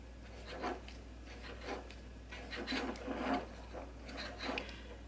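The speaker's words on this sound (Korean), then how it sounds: "이 시끄럽네 진짜. 이 바늘이 다이는 소리랑." Knitting needles clicking and scraping against a white IKEA table while a pocket cardigan is knitted: faint, irregular tapping and rubbing over a low background hum, close by and alone.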